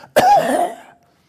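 A single sharp cough rings out close by, followed by a brief rasping tail, then silence.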